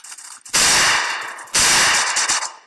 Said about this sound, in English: I got a different gun because I shot that guy to bits and pieces